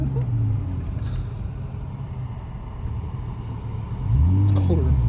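A 2000 BMW car engine running in a steady low rumble, swelling into a louder rev near the end.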